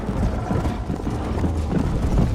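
Horse hooves clip-clopping steadily at a gallop in Red Dead Redemption 1, an Old West game, a continuous rhythmic patter close up with game ambience and no talk over it.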